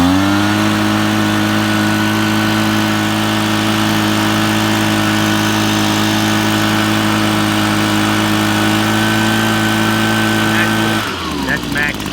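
Echo PB-2520 backpack leaf blower running, a steady loud two-stroke engine drone with strong harmonic whine, held constant, then cutting off near the end.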